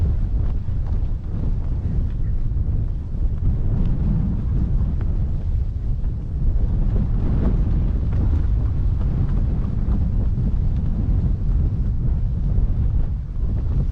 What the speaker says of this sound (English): you can hear the wind is pretty strong this morning